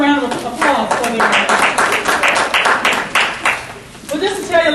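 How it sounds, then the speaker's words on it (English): A seminar audience claps for a group of young entrepreneurs, a steady burst of many hands that rises quickly and fades near the end, with talking at the edges. "Let's give all of them a round of applause"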